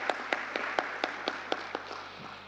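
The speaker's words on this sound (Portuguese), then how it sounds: "uma salva de palmas para Esteban" Sparse, distinct handclaps from a small conference audience thank a presenter, about nine separate claps spaced evenly, fairly faint, with no voices over them.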